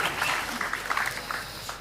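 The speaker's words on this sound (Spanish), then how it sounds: "Fuerte el aplauso para Hernán Santana." Applause from an audience at a sports and media round-table discussion fills the short stretch, a steady wash of clapping at moderate level, faintly mixed with a voice.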